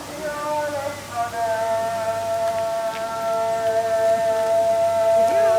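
A Muslim call to prayer in Croatia rings out as a sustained, wavering chanted voice, its long melodic notes carrying steadily over low background hum for the whole stretch.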